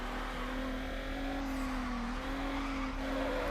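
A car drifts in the Need for Speed: Underground racing game on PS2, its engine holding a steady loud drone throughout, with a thin tire hiss underneath and no talk.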